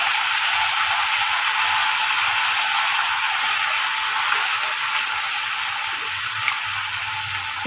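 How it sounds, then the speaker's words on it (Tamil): Bottle gourd sautéing in tomato masala for a dried-fish curry, a loud steady close sizzle and hiss that runs unbroken for the whole stretch. "சுரக்காய்க்கு தேவையான உப்பு சேர்த்து வதக்கி விட்டுக்கோங்க"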